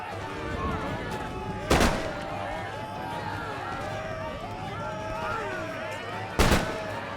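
Two sharp, loud musket volleys crack out several seconds apart in the Napoleonic-era strategy game Empire Total War, over a steady battlefield din of marching troops and shouting voices.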